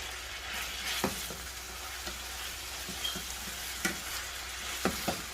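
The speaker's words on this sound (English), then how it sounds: "Give that a nice stir." Mushrooms being stirred in a sizzling pan, a steady soft frying hiss with a few sharp scrapes and clicks of the utensil against the pan.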